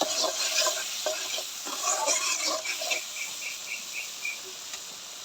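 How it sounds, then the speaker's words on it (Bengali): Salted spice masala for a vegetarian curry sizzles in a pan while being stirred, with scraping spoon strokes and small clicks over a steady frying hiss. "লবণটা দিয়ে ভালো করে কষাই নেব।"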